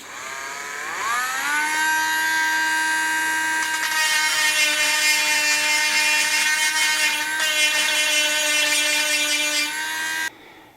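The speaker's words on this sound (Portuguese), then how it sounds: "Se você tiver uma micro retífica, vai bem aqui nessa situação. Você põe uma fresa para madeira" A handheld rotary tool fitted with a wood router bit whines at steady high speed as it cuts into wood, its pitch rising at the start and holding a strong harmonic tone for about ten seconds before stopping abruptly.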